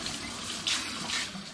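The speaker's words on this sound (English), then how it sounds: "I'm just going to give them a little shower to wash any sticky residue off of the outside of them" Running tap water splashing over glass bottles of home-brewed Aperol as they are rinsed, a brief steady hiss of flowing water with small splashes, fairly close.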